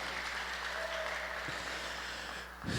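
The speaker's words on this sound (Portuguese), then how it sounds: "uma salva de palmas pelos nossos irmãos" Applause for visitors at a Tuesday church service, a congregation clapping steadily at a distance, faint and washed by room hum, with a thump near the end.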